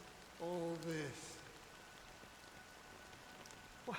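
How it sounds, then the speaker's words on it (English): Steady rain falling throughout a scene in the video game Honkai: Star Rail, Penacony, a soft continuous hiss with a brief voice-like tone near the start and no talk over most of it. "But it's still raining."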